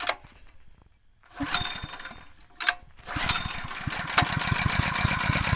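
A small water pump engine, unused for several years and given fresh oil, is pulled twice: a short sputtering attempt, a quick cough, then it catches and settles into a steady, close, rapid chugging run.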